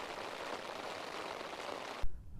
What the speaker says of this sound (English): I've had to run in again, just chucking it down.